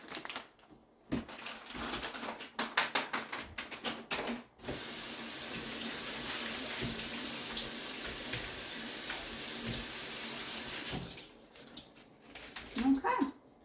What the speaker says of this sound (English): put the shrimp in the strainer and rinse them off